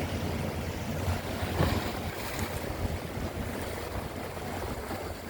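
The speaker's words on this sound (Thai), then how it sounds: "เสีงคลื่นกระทบโขดหิน" Sea waves wash against rocks along a quiet Thai beach, a continuous soft roar of surf mixed with wind buffeting the microphone, with one slightly louder surge early on.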